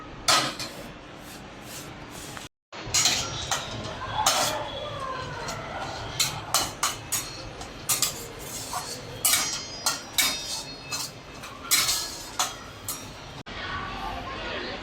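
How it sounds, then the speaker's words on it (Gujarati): Dried jamun seeds roast in a pan with a spoonful of ghee, giving repeated sharp clinks and scrapes of a spoon against metal in an irregular rhythm, close and fairly loud, with a brief dropout partway through. "હવે એને આપણે થોડું ઘી મૂકી, 1 ચમચી ઘી મૂકીને શેકી દેવાના છે"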